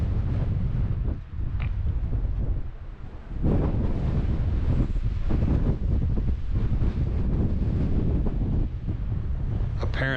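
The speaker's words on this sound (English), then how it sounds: "on a super windy day." Strong gusting wind roars across the microphone at Moran Point on the Grand Canyon rim, loud and continuous with buffeting surges and brief lulls, no voices.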